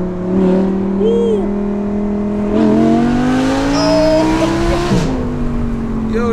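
A straight-piped Audi R8 V10 revving hard on the street, loud and close, with its pitch climbing in long sweeps and sharp breaks between gears.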